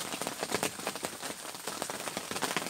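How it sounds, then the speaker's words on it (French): Rain falling on the bank during river carp fishing, a dense steady patter of drops with crackly little hits throughout, fairly faint and close by. "Je sais pas si vous avez entendu avec la pluie"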